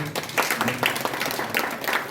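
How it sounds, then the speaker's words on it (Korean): A small crowd at a YMCA founding anniversary ceremony in Gunsan gives the mothers a short burst of applause, lively clapping that stays fairly loud throughout. "우리 어머니들을 위해서 박수 한번 주십시오"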